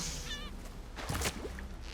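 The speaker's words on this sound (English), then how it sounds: "Seagull." Seagull cries in the video game Horizon Forbidden West, a short wavering call followed by a louder squawk over a steady game ambience, no speech.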